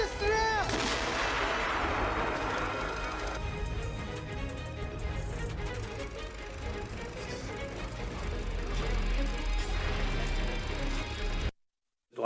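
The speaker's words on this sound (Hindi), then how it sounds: "छुपे यूक्रेनी सैनिकों पर रूसी फौज ने तोप से बमबारी कर दी।" Russian artillery shelling Ukrainian positions: a loud opening blast, then booming detonations and a rumbling roar over a continuous din of battle, cut off abruptly at the end.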